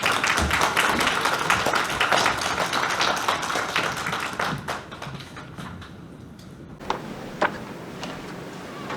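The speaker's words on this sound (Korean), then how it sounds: "여러분 박수 부탁드립니다." An audience at a Korean school education forum claps in dense, sustained applause, loud at first and then thinning to a few scattered claps near the end.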